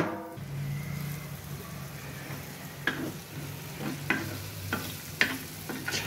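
Pithla (gram-flour curry) cooks on a tawa with a soft, steady bubbling sizzle, broken by a few light spoon scrapes and taps.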